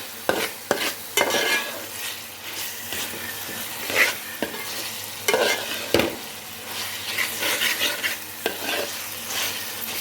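Fish curry cooks in a pan, a soft steady sizzle of frying broken by repeated scraping and stirring strokes of a spoon against the pan, close and fairly quiet, with no talking.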